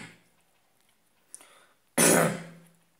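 A single sharp, close cough bursts out after a short quiet stretch, preceded by a faint throat noise.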